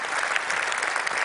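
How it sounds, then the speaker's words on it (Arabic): Audience applause for the Tunisian comedian Arbi Mazni, a dense, steady wash of many hands clapping close and loud throughout, with no talk over it. "تصفيق على عربي المازني"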